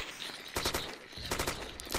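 Gunfire in the video game Arma II during a combat patrol in Chernarus, with rapid bursts of automatic fire in two or three clusters, loud and close, separated by brief lulls.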